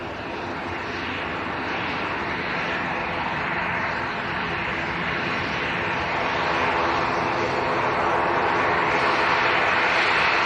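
An Aer Lingus airliner comes in to land at Leeds Bradford Airport, its engine roar loud and broadband, growing gradually louder and fuller as it draws nearer over ten seconds.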